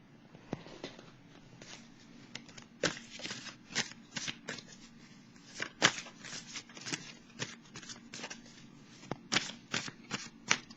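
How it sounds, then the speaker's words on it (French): Tarot cards being shuffled to draw a single card: close, crisp riffling and slapping of the deck in irregular quick bursts, with soft handling sounds in between. "Je vais piger une carte."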